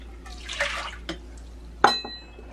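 Warm water for bread dough pours in brief splashes and drips, quiet and close, with one sharper splash near the end.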